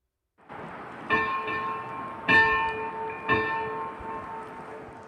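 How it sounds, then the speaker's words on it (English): Three loud, resonant bell strikes ring out about a second apart, each leaving a long humming tone that hangs in the air. "at 6:42, the church bells rang for each one of them"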